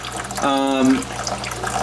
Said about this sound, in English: dripping into the bucket. As you can see, it actually goes fairly quickly.